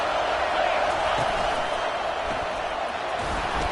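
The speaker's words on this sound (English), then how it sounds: "Here comes 2nd down, and this crowd is turning it up a notch." Football stadium crowd roaring steadily through a second-down play, a dense, unbroken wash of cheering noise that stays loud throughout, with a commentator's voice likely running over it.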